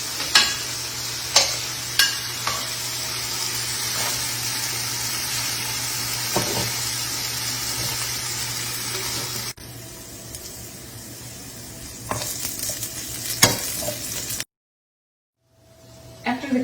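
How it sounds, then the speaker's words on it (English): Garlic, thyme and red pepper flakes sizzle steadily in a pan used for browned-butter scallops, with occasional sharp stirring scrapes, then the frying drops quieter before a brief silence near the end. "After the garlic and the thyme and the red pepper flakes have browned"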